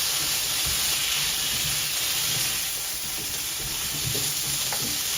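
Korma beans curry frying in a pan while being stirred, a steady close sizzle and hiss with soft scraping stir sounds underneath, continuous throughout.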